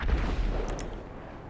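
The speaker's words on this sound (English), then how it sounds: "they've heard that massive explosion." A massive explosion in the video game GTA 5 leaves a heavy, rumbling boom that decays over about a second and a half, loud and deep with a brief crackle of debris.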